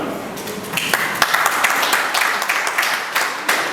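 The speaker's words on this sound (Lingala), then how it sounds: "Est-ce qu'on peut applaudir madame?" Audience applause at a workshop for artists and comedians, a dense, steady crackle of many hands clapping that holds at a fairly loud level for the whole stretch, with no talk over it.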